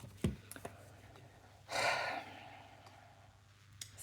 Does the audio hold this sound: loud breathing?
yes